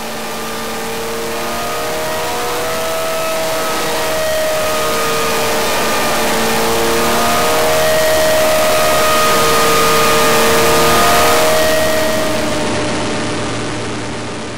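An engine fitted with an electronic jet kit revs as the throttle opens and closes, its loud whine swelling and easing in long steady sweeps with no voices.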